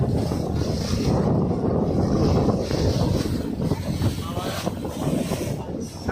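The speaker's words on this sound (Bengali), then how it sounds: "এই যে বোট ছেড়ে দিছে।" A passenger boat pulling away on the water in Dubai, its engine a steady low rumble under heavy wind noise and splashing, with faint voices nearby.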